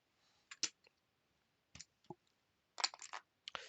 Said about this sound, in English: The cards are now gathered in.